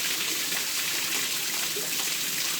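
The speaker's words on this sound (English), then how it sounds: "I can tell you, the water here coming out with a lot of force." Spring water rushes forcefully from a regular pipe at a spring in Barbados, a steady, close, dense hiss of splashing water with no talk.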